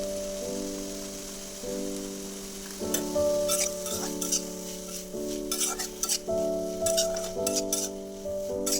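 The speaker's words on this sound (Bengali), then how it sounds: "ভালো করে নাড়িয়ে নিচ্ছি।" Vegetarian cabbage curry stirred in a frying pan: a soft, steady sizzle under repeated scraping strokes and sharp clinks of a spoon against the pan, close and moderately quiet.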